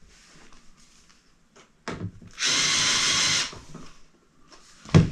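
A power driver whirs in a short steady burst while driving screws into the chassis of a Marshall MG100DFX guitar amp, framed by soft handling clicks and a sharp knock at the end.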